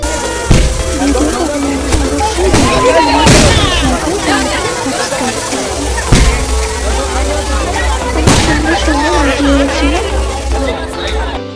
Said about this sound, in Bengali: সবাই মিলে বাজি পোড়ানো দেখছি